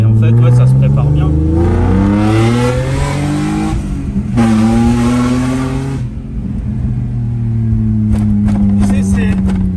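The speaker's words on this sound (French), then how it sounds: "Le vrai son de BM, c'est celui-ci, la famille." Engine of a BMW turbo drift car with over 800 horsepower revs hard in repeated rising sweeps with brief dips between, loud and close, with some talk near the end.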